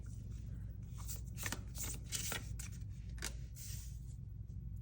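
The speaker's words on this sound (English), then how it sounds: "I'm sorry, I'm not shuffling in the frame." Tarot cards shuffled just out of view, a faint sequence of quick riffling swishes and flicks over a low steady background hum.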